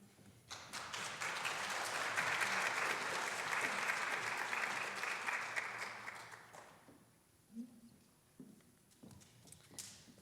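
A pageant audience gives a loud, sustained round of applause that swells and holds for several seconds, then tapers off into scattered faint claps and quiet room noise.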